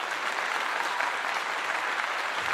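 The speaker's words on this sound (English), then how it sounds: "Let's give them a clap." A room of people claps together in a steady, even burst of applause, close and fairly loud, with no voices over it.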